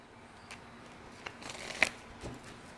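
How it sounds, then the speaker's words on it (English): Soft papery riffles and a few sharp flicks of tarot cards being shuffled, quiet and close in an otherwise still room. "Just do a quick shuffle here"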